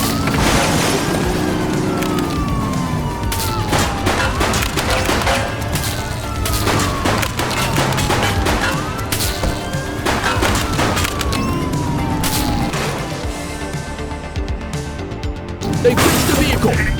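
Gunfire aimed at a vehicle during a police shootout in The Precinct, with dense bursts of shots, impacts and crashes layered under a continuous loud game soundtrack, with voices calling out.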